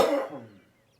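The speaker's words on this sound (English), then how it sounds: "don't know where this cough's come from." A single short, harsh cough, close and loud, fading out quickly into quiet.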